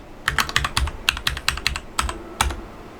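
Computer keyboard typing, a quick uneven string of crisp nearby keystrokes with short pauses between bursts, no voices.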